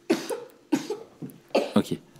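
A child coughs repeatedly indoors during a lecture recording, with three close bursts of two or three harsh coughs each, spaced by short pauses.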